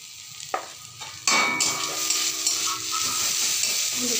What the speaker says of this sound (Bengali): হলুদটাকে এর সঙ্গে বেশ ভালো করে মিক্স করে নিতে হবে।